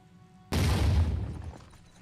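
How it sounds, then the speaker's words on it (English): A grenade bursts in the tactical game Phoenix Point, a single sudden loud boom with crackling debris that decays over about a second into quiet. "seemed like a pretty empty explosion to me"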